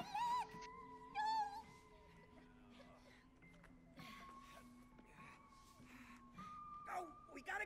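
A cat meows a few times in the It Takes Two video game, short high cries rising over game music and effects, with players talking throughout.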